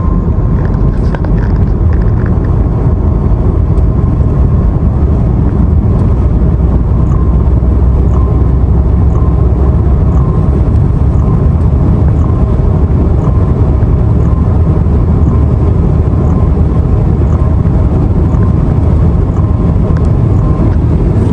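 An MG Windsor Pro EV pulls hard at full throttle from about 40 km/h, giving a steady, loud rush of wind and road roar with a faint electric whine, unbroken for over twenty seconds.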